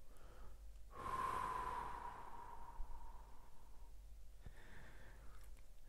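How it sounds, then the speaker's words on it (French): A person breathing slowly and deeply during an energy-healing session: one long audible inhale, a held pause, then a soft drawn-out exhale, close and quiet. "J'inspire longuement, je bloque la respiration quelques secondes. J'expire longuement."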